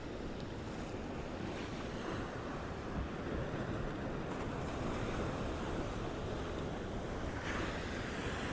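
Ocean surf rolling and breaking at a Gold Coast beach, a steady, dense roar of waves with wind buffeting the microphone throughout, continuous and fairly loud with no talking.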